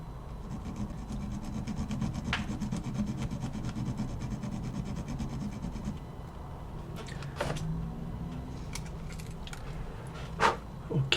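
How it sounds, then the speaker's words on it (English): A sharp, pointy edge on a part from a Sony WM-FX661 cassette player is ground down by hand, giving a steady close rasping scrape that runs continuously, broken by a few brief metallic clicks toward the end, with no voices. "sharp, some pointy edge, so it needs to be grinded"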